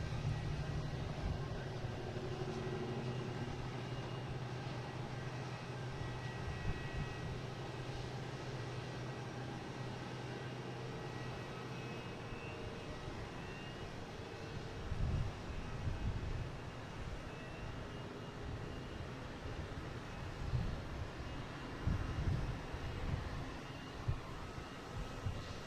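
Heavy Delta airliners approaching to land at Boston Logan produce a faint, distant low rumble of jet engines. The roar swells gently and carries on under wind buffeting on the microphone.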